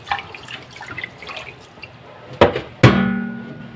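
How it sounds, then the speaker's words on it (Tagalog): Glutinous sticky rice is washed by hand in water, with soft swishing and rinsing close by, then two sharper splashes or pours near the end. "huhugasan natin yung malagkit"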